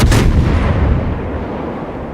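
Ship gunfire in World of Warships: a single loud, close naval gun blast with a heavy boom, followed by a long rumbling decay, no talk.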